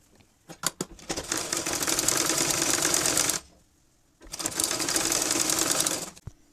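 A sewing machine stitches the edge of a baby's fabric hat in two close, loud runs separated by a brief pause, with a few clicks at the start.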